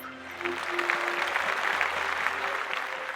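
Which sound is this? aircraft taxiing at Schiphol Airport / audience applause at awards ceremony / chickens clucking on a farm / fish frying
audience applause at awards ceremony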